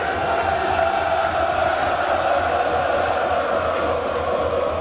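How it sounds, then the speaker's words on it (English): Exeter Chiefs home crowd at the 2014 LV Cup rugby final against Northampton, a dense, continuous roar of cheering and chanting from a distant stadium that holds steady throughout. "the home crowd, you can hear them trying to do their bit to lift their team"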